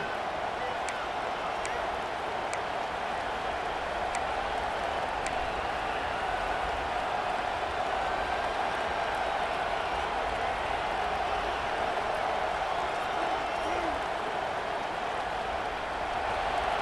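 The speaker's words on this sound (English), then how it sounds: "this home crowd is fired up and ready to make a difference today" Home crowd cheering at a college football game in EA Sports College Football 26, a dense steady roar of many voices that stays constant throughout, with an announcer's talk over it.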